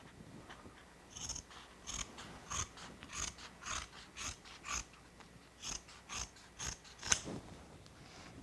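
Scissors cut off excess carpet binding at a mitered rug corner, making a steady run of crisp close snips, roughly two per second, with no voices.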